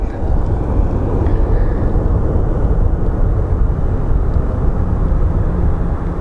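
A departing airliner at Phoenix Sky Harbor bound for Santa Ana gives off a loud, continuous low roar of jet engines that stays steady and close from start to finish.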